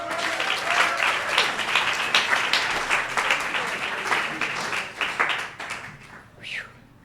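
An audience at a Sunday noon AA meeting on Ohio Street claps warmly to welcome a speaker, a dense, steady round of applause that tapers off near the end.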